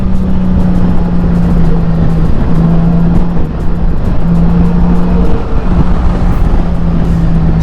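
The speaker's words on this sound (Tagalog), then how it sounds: "Gigil yung makina niya." A heavy motorcycle engine hums steadily while riding on the road, a loud continuous drone with a sustained low tone that drops out briefly and returns, with road and wind noise all the way through.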